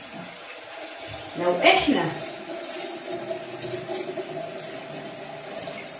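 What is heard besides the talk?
hot water from home heater being poured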